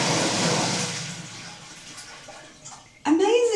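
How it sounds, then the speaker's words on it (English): A powerful toilet flush in Trapani, Sicily: a loud rush of strong water flow that gradually fades over about three seconds, followed by a brief voice. "Is that the coolest toilet flush? It flushes with a lot of power too."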